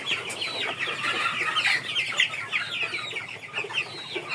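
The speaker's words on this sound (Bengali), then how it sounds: "মুরগিগুলোকে দেখে নিন" Many chickens cluck and chatter continuously inside a poultry farm shed, a dense overlapping flock sound with scattered louder calls and no talking.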